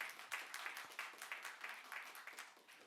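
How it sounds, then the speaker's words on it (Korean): Faint, steady applause from a church congregation at a Sunday worship service, honoring a young member's first time playing keyboard; many hands clap densely and continuously at a distance, with no clear talk over it. "박수 한번 주세요."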